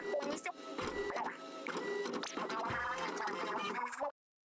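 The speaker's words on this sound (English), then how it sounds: "I love like the little printing sound." A cartoonish little printing sound from the Splatoon Splatfest announcement for Spicy, Sweet and Sour, mixed with upbeat game music and chirpy character voices, running continuously for about four seconds before cutting off.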